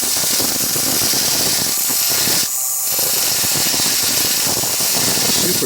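A rotary tool with a fine bit grinds steadily into fire agate, loud and close, with a short dip partway through.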